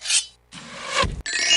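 A video game saw cuts in short rasping strokes, a brief scrape, a pause, then a longer grinding pass with a thud, and a final bright buzzing rasp, close and alone.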